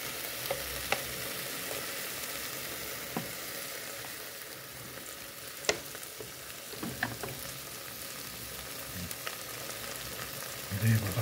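Steady hissing of shrimp frying in hot oil, with occasional pops and a few light stirring clicks, fairly quiet and without speech.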